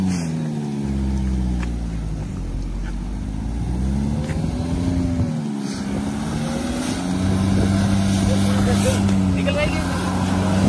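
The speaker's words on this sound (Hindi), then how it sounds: "भाई दम तो लगाना पड़ रहा है गाड़ी को" A Toyota Fortuner engine strains off-road while the SUV tilts on rough ground, revving with a low, laboring drone that climbs and dips in pitch, loud and close, with people talking over it.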